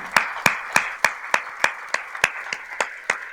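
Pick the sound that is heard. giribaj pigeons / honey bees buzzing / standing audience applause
standing audience applause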